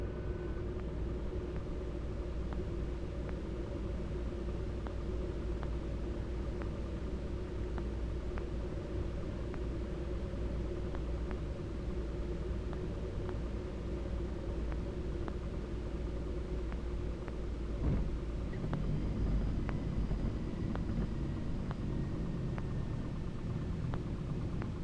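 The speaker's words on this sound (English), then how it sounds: "So we taxied into this nice little airport." A Cozy MKIV experimental airplane taxiing at a small airport, heard as a steady low engine rumble and droning hum from inside the cabin, continuous and moderately faint for the whole stretch.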